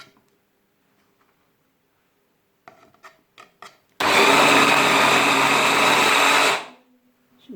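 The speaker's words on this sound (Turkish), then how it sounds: "Şimdi domateslerimizi kabaca bir rondodan geçireceğiz." A food chopper roughly chopping tomatoes: a few clicks and knocks, then a loud, steady motor whir with blades churning the tomatoes for about three seconds before winding down and stopping.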